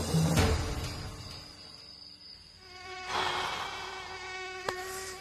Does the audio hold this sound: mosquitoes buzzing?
yes